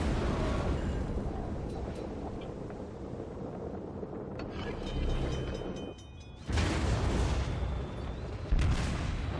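Heavy naval guns boom from a warship in World of Warships, a sustained rumbling barrage with a few louder blasts and splashes, dense and continuous throughout with a brief lull near the middle.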